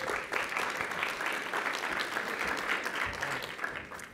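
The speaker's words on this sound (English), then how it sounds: "So let's give him a round of applause." Steady, dense audience applause at an AI in finance conference, a continuous wash of many hands clapping at moderate distance without pause.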